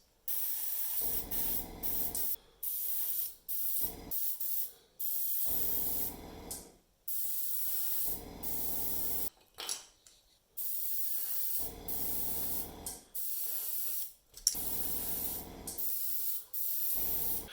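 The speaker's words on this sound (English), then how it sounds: "for this I'm just doing a kind of bony colour in the airbrush" Airbrush spraying a bony-coloured paint onto Hormagaunt miniatures, a steady close hiss in repeated bursts of a second or two, separated by brief pauses, with no talking.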